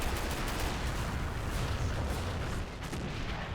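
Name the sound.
gunfire in Men of War video game battle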